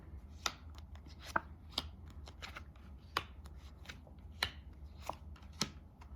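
A deck of tarot cards being shuffled by hand, with sharp, rhythmic riffling snaps recurring about every half second to second, close and fairly quiet, with no voices.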